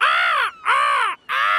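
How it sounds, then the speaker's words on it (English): Cartoon seagulls calling in Peppa Pig, three loud, harsh, drawn-out squawks in a row with brief pauses between them, close and clear with no talking. "The cheeky seagulls are eating Grandpa's raspberries."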